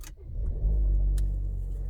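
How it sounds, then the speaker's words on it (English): A Volvo S60 engine starts with a brief crank and catches into a steady, loud idle rumble that holds close by. There is a short click partway through. "start the vehicle by turning the knob to the right side."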